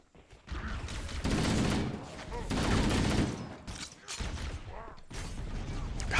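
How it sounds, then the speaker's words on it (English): Marines fire assault rifles in the shooter Halo: Combat Evolved, dense overlapping bursts of automatic gunfire and battle noise that run nearly continuously, with brief lulls between volleys. "Marines' rate of fire is with the assault rifle."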